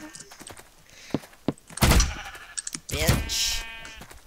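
A sheep bleats in a video game. The short, nasal cries rise near the end, mixed with dull thunks and scattered game effects, with no other sounds between them.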